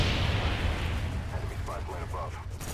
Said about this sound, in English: the sound of the guns in this game just sounds so unique to me